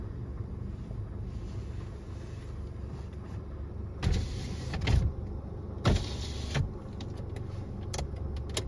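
A car's electric window motor whirs in two separate bursts of about a second each, near and clear over steady wind and road rumble inside a moving car.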